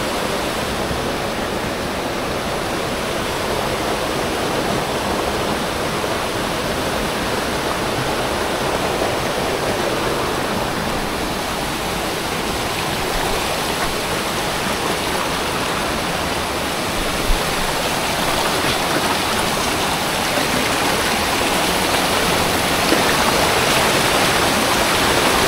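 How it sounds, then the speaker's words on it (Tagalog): A jungle river waterfall roars in a constant, dense wash of rushing water, loud and unbroken throughout with no voices. "Parang may nakikita akong falls doon."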